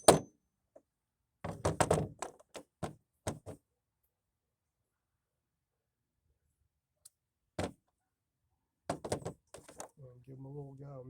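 Sharp metallic knocks and taps in short clustered bursts as valve parts are driven into a Farmall Super tractor cylinder head in a quiet workshop, with long silent pauses between strikes and a faint voice at the end.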